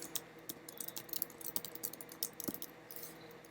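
Quick, light keystrokes on a computer keyboard, an irregular run of close clicks and taps over a faint hum, with no one speaking.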